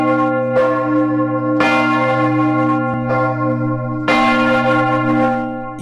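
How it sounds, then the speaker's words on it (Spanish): Church bells peal loudly in a festive repique, rich harmonic tolls struck in repeated bursts with overlapping ringing that sustains between strikes, no voices present. "este repique de campanas nos anuncia que estamos comenzando en nuestro programa"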